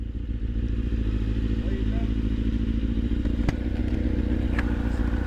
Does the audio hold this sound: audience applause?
no